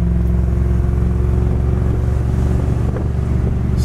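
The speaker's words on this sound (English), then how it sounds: "The dual exhaust sounds okay." Steady droning dual exhaust of a 1966 Ford Galaxie convertible cruising on the road with flex pipe sections at the rear, a loud continuous low rumble blended with wind and road noise throughout.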